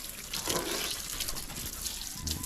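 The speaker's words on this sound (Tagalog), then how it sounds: "Hindi spray lang ng tubig para matanggal yung mga buhangin." Water sprayed steadily to rinse sand off a surface, a continuous hissing wash with no talk over it.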